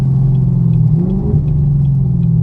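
A 500 HP Camaro SS on bald tires, heard from inside while driving in the rain: a loud, steady low engine drone with a slight pitch shift midway, continuous and without talk.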